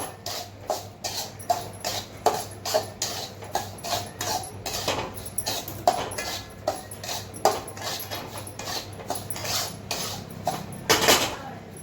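Semolina roasting in ghee in a pan for gulacha shira, with a spoon scraping and clinking against the metal in a steady, repeated rhythm, close and moderately loud, with no talking.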